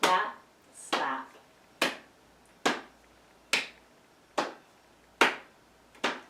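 A family yoga session keeps a song rhythm with eight sharp percussive hits, hand claps alternating with slaps on the legs at a steady, roughly one-per-second pace, close and clear with quiet gaps between.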